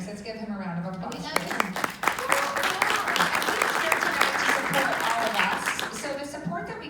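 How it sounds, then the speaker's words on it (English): A voice speaks briefly, then applause from a sales meeting audience swells into dense, lively clapping that runs steadily under some background voices before tapering off. "Let's give him a round of applause."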